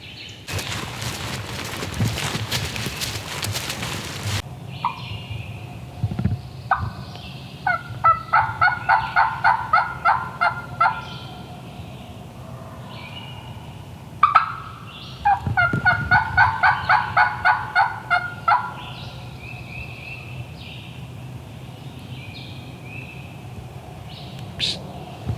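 Wild turkey gobblers in a Georgia flock gobbling repeatedly in rapid rattling bursts at a middle distance outdoors, several calls answering one another amid rustling and a loud close crack early on.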